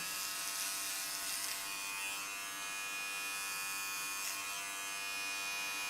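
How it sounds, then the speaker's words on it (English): Electric hair clippers cut hair behind a person's ear, giving a steady, fairly quiet, high buzzing that continues without a break and with no talking. "we'll have a little bit more control over this hair with the clipper"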